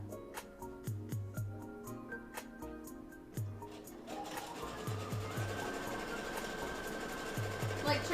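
A sewing machine stitching a Hinata cosplay costume: first a run of short, evenly spaced mechanical clicks and thumps, then a continuous whirring hum of steady stitching, close and fairly quiet.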